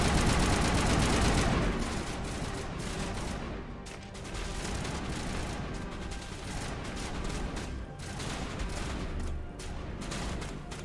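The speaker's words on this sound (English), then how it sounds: "Who's shooting me? You? Stop shooting me." Sustained gunfire rattles through a firefight in Mass Effect Legendary Edition, with a dense, loud volley at first that settles into continuous rapid shooting and scattered impacts across the whole stretch, with no talking.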